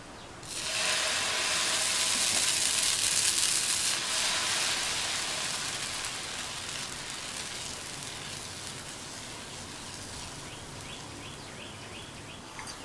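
Dosa batter poured onto a hot, freshly wiped griddle gives a steady broad sizzling hiss that starts loud and slowly fades over about twelve seconds, with no talking.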